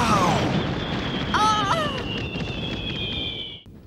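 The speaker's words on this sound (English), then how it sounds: "The fireworks must have come from there." Whistling fireworks launched from a boat at sea streak upward in rising and falling tones over a steady background rumble, several overlapping, lasting a few seconds before cutting off.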